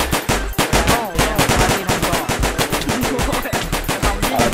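Rapid automatic gunfire from a video game battle between a diamond castle and a gold castle, loud sustained bursts of machine-gun shots in tight rhythm filling the whole stretch with no talk.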